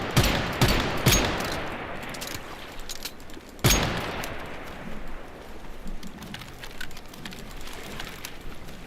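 Gunfire from shooting an enemy in the video game Once Human: a few sharp, loud shots cluster early, with another strong blast midway, then fainter scattered pops and ambient game noise, no talking.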